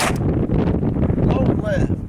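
A Ruger Government .22lr handgun fires at a steel target 200 yards away outdoors: one sharp, loud shot at the start, followed by a rumbling echo and a faint distant ring.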